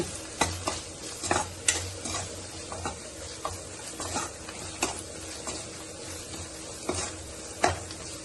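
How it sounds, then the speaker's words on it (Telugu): A chicken fry marinade with chili powder and food colour being mixed with a spoon, giving repeated scraping and clicking strokes against the vessel with a soft wet sound, close by and moderately loud. "మంచిగా కలిసేలాగా కలుపుకున్నాయి ఇవన్నీ."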